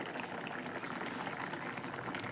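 Pointed gourd and small fish curry bubbling gently in a covered pot, a steady soft simmer with faint liquid crackle and no voices.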